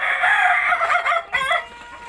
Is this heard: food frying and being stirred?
no